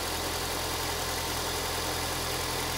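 A car engine idles steadily during an alternator test, a constant even hum with a faint rhythmic low throb, close up and with no talking.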